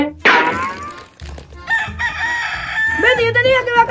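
A man imitates a rooster crowing with his voice, a loud rising-and-falling crow near the start followed by a longer drawn-out call, with other voices around it.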